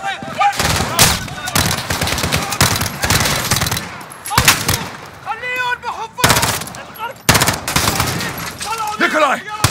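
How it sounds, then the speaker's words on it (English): Bursts of automatic gunfire in Call of Duty Modern Warfare (2019), loud and repeated in heavy volleys, with radio-style game voices talking between the shots. "The gunshots, of course."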